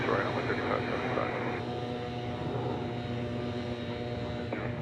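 An airliner taking off at DFW International Airport rumbles as a steady, loud, broadband engine roar throughout, with a continuous low hum beneath and no clear voices over it.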